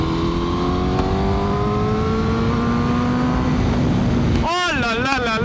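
A Honda CBR1000RR-R sport motorcycle accelerates on a highway, its engine note climbing steadily through a gear under heavy wind rush, then a rider's voice breaks in over the roar near the end.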